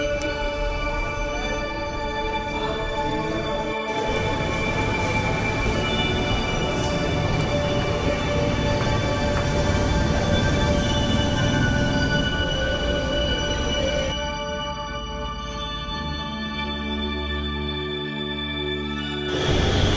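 A Delhi metro train at a station gives a steady, loud rumble and hum with a continuous tonal whine, shifting in pitch partway through, and no talk over it.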